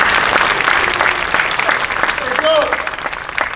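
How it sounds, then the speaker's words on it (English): An audience applauds the overall winner at the 2023 Golden Fleece awards, a dense steady clapping that fills the whole stretch, with a voice briefly audible over it. "Yeah, go ahead and clap for him. Clap for him."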